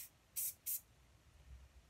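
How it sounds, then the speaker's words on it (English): Adhesive glue is sprayed onto a can cooler in two short, quick hissing bursts, close but quiet, followed by near silence. "So I'm just going to give it a little spray."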